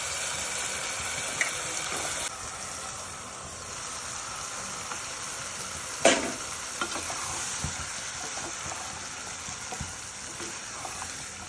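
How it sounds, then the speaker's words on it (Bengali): Winter vegetables fry with spices in a pan, sizzling steadily while a spoon stirs and scrapes through them, with one louder clatter midway and no talking. "সবজিগুলো এরকম নেড়ে আমরা কিছুক্ষণ ঢাকনা দিয়ে কষিয়ে নিব সবজিগুলোকে"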